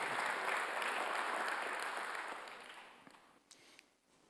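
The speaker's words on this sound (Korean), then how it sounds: "박수로 하세요." A church congregation applauds during a Sunday worship service, a dense, steady burst of clapping that filling the room before thinning and fading out over its last couple of seconds, with no talk over it.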